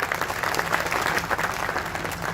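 Audience at an expo in Swat clapping together, a dense sustained burst of applause filling the whole stretch at a steady level.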